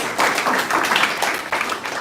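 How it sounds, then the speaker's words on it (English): Scattered clapping from a crowd at a secondary school gathering, a steady patter of many hands that dips briefly before picking up again. "Please clap for the officers."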